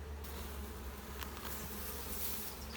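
A dense, steady drone of many honeybees buzzing close by, continuous and fairly quiet, with no voices.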